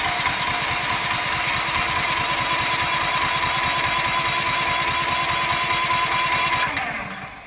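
A brand-new propane backup generator runs its small engine with a loud, steady, close chugging drone. It holds evenly for several seconds, then winds down and fades at the end.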